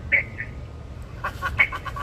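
A person's voice mimics a small angry bird chirping, giving a couple of squeaky calls followed by a quick run of harsh, clipped chirps, close and moderately quiet over a low background hum.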